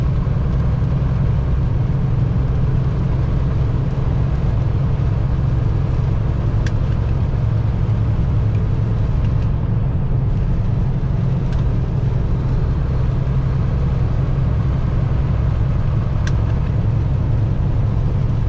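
Steady car engine and road noise while cruising on a highway at about 56 mph with cruise control set, a constant loud drone with no talking.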